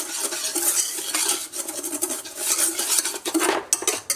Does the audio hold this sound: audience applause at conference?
no